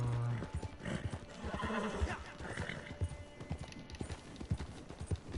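Rhythmic clip-clop of horse hooves trotting at a steady pace, with a brief whinny near the start, from the video game Red Dead Redemption 2 Online.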